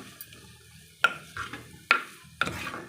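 Onions and spices being sautéed in a pan for a Kerala-style fish curry: a soft background sizzle broken by three or four sharp scrapes and clinks of a spoon stirring against the pan, close and with no talk.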